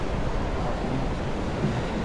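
River water rushes fast down a steep channel in a gorge in Spain, a loud, steady broadband roar with no breaks that fills the whole stretch, mixed with wind noise on the microphone.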